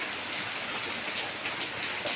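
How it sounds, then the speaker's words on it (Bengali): Heavy rain pours down on an empty road at night, a dense, steady hiss of drops hitting the surface, constant and enveloping with no voices. "বৃষ্টিটা খুব জোরেই পড়ছে"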